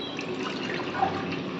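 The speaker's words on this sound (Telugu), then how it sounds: "వాటర్ పోసి బాగా మరగనివ్వాలి" Water is poured into a cooking pot to boil butterfly pea flower tea, a steady soft splashing stream at moderate loudness with no voices.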